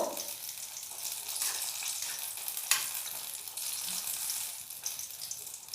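A Bengali fish bati chochori mixture being stirred and mixed well by hand, with a soft, continuous wet churning and rustling, faint and steady, with one sharper knock partway through.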